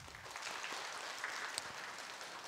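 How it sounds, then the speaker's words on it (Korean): A church congregation claps together during a Sunday worship service, a soft, steady patter of many hands sustained throughout at a fairly low level. "우리 한 박수 한번 쳐주십시오."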